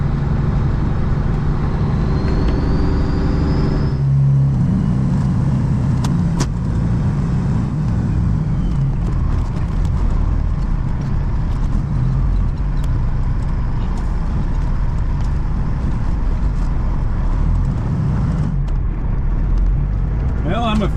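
A car drives along a road and turns around after a missed turn, its engine and road noise a steady loud drone throughout, with a brief clatter near the start and a person talking over it.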